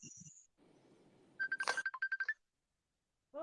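Facebook Messenger incoming call ringtone, a bright repeating electronic melody of quick chiming notes in a short burst, heard after a brief low murmur of background noise.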